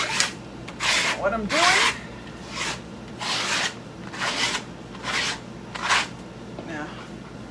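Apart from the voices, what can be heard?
trowel scraping metallic plaster on a wall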